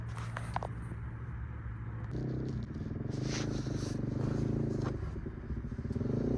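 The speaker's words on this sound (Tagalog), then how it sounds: "Ang ingay na motor." A motorcycle engine's steady rumble runs close by at a Hayling Island campsite, with scraping and clattering noises layered on top and no speech.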